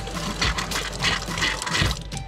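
A van's water pump runs as the last of the tank's water is drawn out, a steady mechanical whir with a gurgling, sputtering liquid flow in a pulsing rhythm, close by and continuous.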